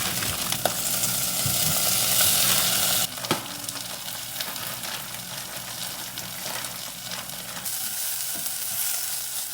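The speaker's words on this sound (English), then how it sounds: "I have browned my sausage just enough, and I've cooked down the spinach." Sausage and a block of frozen spinach fry in a pan with a steady, loud sizzle that keeps going throughout, broken by occasional stirring scrapes and clacks.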